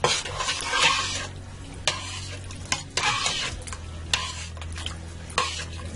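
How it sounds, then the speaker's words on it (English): Steak soup being stirred in a pot, with a spoon scraping and knocking against the metal in several distinct strokes over a low simmering bubble, close and clear, with no talking. "Give this a stir."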